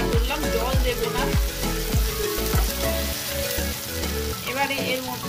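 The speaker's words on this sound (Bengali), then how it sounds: "চিকেনটা দিয়ে আমি 5 মিনিট নাড়াচাড়া করলাম, জল দেব না।" Chicken pieces frying in a pan for a chicken biryani with Maggi noodles, stirred repeatedly, with loud steady sizzling and rhythmic knocks of the utensil against the pan.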